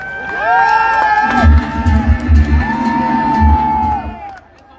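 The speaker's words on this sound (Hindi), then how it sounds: "एक बार जोरदार तालियां" A crowd at a live stage event cheers and whoops loudly as a guest is welcomed, with shouts rising and falling over a steady roar and a low musical beat thumping underneath, fading out at the end.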